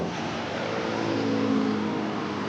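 Angkot minibus rolling past with a steady engine drone and road noise, fairly close and continuous, with no talk over it.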